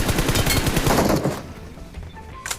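Gunfire from the video game PUBG Mobile arrives as a loud, rapid automatic burst of shots for about a second, then fades to scattered quieter reports.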